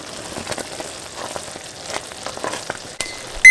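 A pot of lemon ginger marmalade boiling hard on the stove, a steady close bubbling hiss with popping bursts throughout and a sharp knock near the end.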